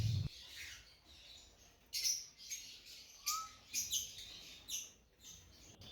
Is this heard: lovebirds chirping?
yes